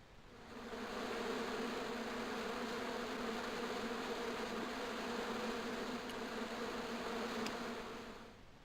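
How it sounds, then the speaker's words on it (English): Hornets buzzing angrily inside a bush in the video game Broken Sword 2, a steady dense drone that swells in, holds for several seconds and fades, with no voices. "As I walked towards the bush, it started buzzing angrily."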